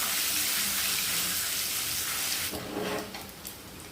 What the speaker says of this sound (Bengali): পনিরগুলোকে হালকা লালচে করে ভেজে নেব।